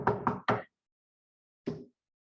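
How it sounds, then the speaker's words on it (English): Knocking on a door acted out while telling a story: three quick raps, a pause, then a single knock, close and crisp. "He knocks a little more."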